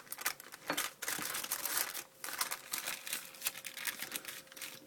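Paper crinkling and rustling as it is peeled away from rolled apple pie dough, close and fairly quiet, a run of irregular crackles and soft tearing sounds with brief pauses between them.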